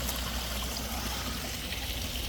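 Water spills over the negative edge of a backyard ecosystem pond at about 2,000 gallons an hour, a steady, close rushing trickle like a small stream, continuous and even, with no talking.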